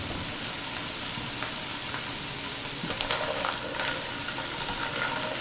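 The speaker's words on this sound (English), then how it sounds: "And we're gonna saute. Remember, saute is to cook in a fat. In this case, it's oil." Chickpeas sauteing in hot oil in a pan while being stirred, a steady close sizzle and hiss with a few brief scrapes and clicks of the stirring.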